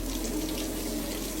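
Steady water pouring from a tap into a sink, loud and close, a constant broadband rush with no voices.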